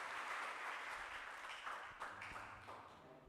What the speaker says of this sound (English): Give applause to Mr. Miklos.